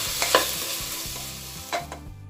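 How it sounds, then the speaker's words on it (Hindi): Carrots and mixed vegetables for a soya veg biryani are stirred in a pan over a high flame, with a steady sizzle and a few louder scraping strokes. "हम इसे अच्छे से मिला लेंगे। इसे हम हाई फ्लेम पे 2 मिनट तक पकाएंगे।"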